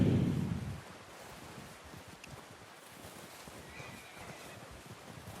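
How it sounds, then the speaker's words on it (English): A horse in the video game Red Dead Redemption II on PS5 gives a loud, close whinny at the very start, followed by quiet wind and soft ambient rustling. "El caballo."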